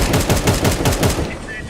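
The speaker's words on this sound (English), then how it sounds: "Deploying flashbang. Incendiary out." Rapid bursts of gunfire and explosive pops in a video game, a fast uneven rattle of close, loud shots lasting about a second before cutting off into a quieter tail.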